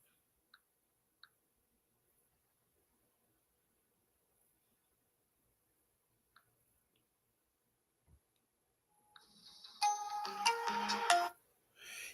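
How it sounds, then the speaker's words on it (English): A phone ringtone sounds after a long near-silent stretch broken by a few faint clicks, arriving as a moderately loud melodic burst of about two seconds that starts up again at the end. "my phone did ring"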